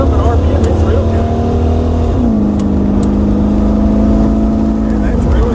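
Jeep engine held at steady high RPM in a garage, a loud continuous drone with a pitch drop partway through before settling, while people talk over it.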